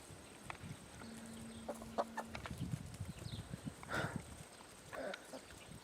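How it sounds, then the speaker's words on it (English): Chickens cluck softly in a cottage garden, a few short, scattered calls over a quiet outdoor background with faint rustling. "There's a chicken one."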